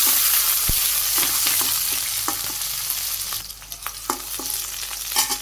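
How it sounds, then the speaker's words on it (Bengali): Chopped onion and green chillies sizzle in a frying pan while a spatula stirs and scrapes in scattered, irregular clicks, close and moderately loud, with no talking. "এর মধ্যে আমি একটু পেঁয়াজ কুচি দিয়ে দেবো পেঁয়াজ কুচি একটু বেশি করে কাঁচামরিচ শাক একটু কাঁচামরিচ বেশি হলে ভালো লাগে একটু নেড়ে চেড়ে নিই"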